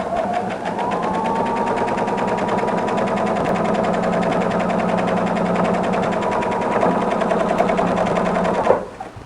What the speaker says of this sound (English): set your machine for a straight stitch with a standard length, and go ahead and sew